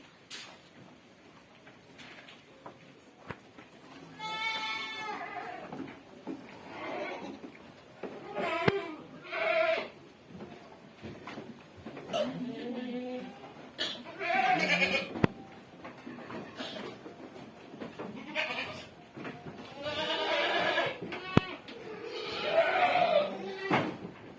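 Boer and cross-Boer goats bleat repeatedly in a new farm pen, several overlapping calls rising and falling at close range over a steady barn background.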